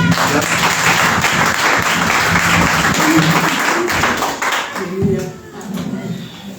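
A church congregation applauding during a Sunday service, steady crowd clapping throughout with voices talking and cheering underneath.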